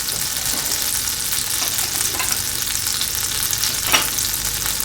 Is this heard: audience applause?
no